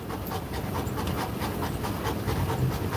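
A Cane Corso pants hard while exercising on a treadmill, with rapid, rhythmic, breathy huffs close up that run steadily throughout, without any talking.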